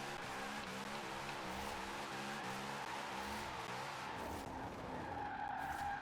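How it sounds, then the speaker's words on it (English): A car drifts in the Forza Horizon 4 racing game, its engine droning steadily while the tires squeal and skid loudly through a handbrake-assisted corner, with no voices. "So you've got your handbrake to swing yourself around corners."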